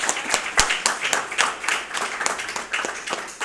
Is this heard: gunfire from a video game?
no